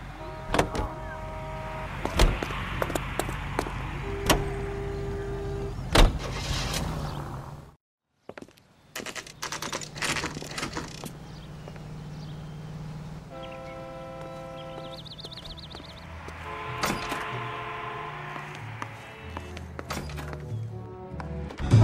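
A car in the video game L.A. Noire: door thunks and window or mechanism whirs give way to a steady engine drone with tonal hums, a brief dropout midway, close and continuous throughout.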